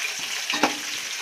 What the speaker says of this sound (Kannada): ಈಗ ಸ್ವಲ್ಪ ಈರುಳ್ಳಿ ಹಾಕೋತಾ ಇದ್ದೀನಿ.